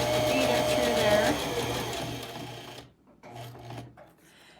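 A Singer Heavy Duty sewing machine hums steadily while stitching, stops briefly, then runs again for a short burst, with a voice talking over the first part.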